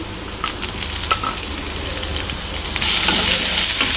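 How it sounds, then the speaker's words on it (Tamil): Onion and tomato sautéing in a pan for a spicy mushroom dry gravy make a loud, continuous sizzle with scattered crackles, growing brighter and louder near the end. "தக்காளியும் வெங்காயம் நல்லா மிக்ஸ் பண்ணுற அளவுக்கு வதக்கி வதக்கிக்கலாம்"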